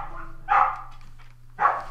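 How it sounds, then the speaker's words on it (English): A dog barks twice indoors during a game session, two short sharp barks about a second apart, moderately loud over a faint steady hum. "Sorry about my dog."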